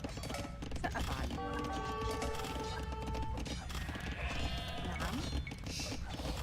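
Sheep bleat repeatedly in Age of Empires II, clear tonal calls mixed with game effects and faint hoof-like clip-clops, while a short voice line plays in the background.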